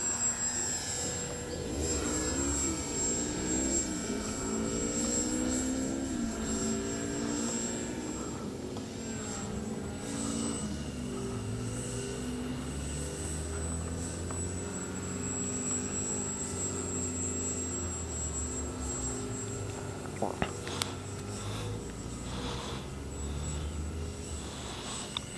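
A Dynam Tiger Moth RC model airplane flies overhead in the morning, its electric propeller whining steadily and shifting in pitch as it passes, moderately distant and continuous with no talking.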